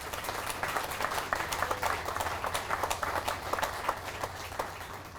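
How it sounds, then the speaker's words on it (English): Audience applause for a police honor guard and color guard at a memorial service, steady scattered clapping through the whole stretch, moderately distant over a low hum. "So give our Honor Guard and our Color Guard a round of applause."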